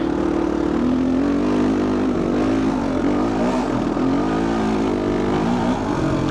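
Vintage dirt bike engine running steadily in the Caucasus mountains, a continuous loud droning hum with a low harmonic tone that shifts slightly as the throttle changes, close to the rider with no talk.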